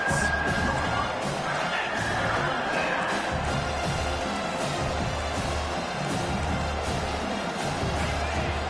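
Home crowd at a football game cheering in a loud, continuous roar of many voices with scattered shouts, steady throughout.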